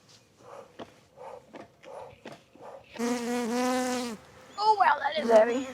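Honeybees at an opened beehive at the first check of the season: close, droning buzz with clear wingbeat pitch, rising in bursts between softer rustles and taps, sometimes alone and sometimes overlapping.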